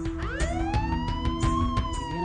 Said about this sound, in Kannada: ಏನಪ್ಪ ಆಂಬ್ಯುಲೆನ್ಸ್ ಸೌಂಡ?